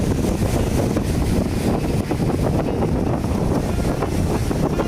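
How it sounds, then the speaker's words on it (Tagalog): Strong wind blows steadily across Manila Bay with rough waves, a loud continuous roar and buffeting against the microphone that never lets up, with no voices. "mahangin dito, mahangin. Mahangin na."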